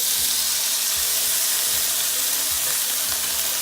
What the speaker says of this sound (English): I'm going to toast some chickpeas, which is going to be one of our garnishes on the top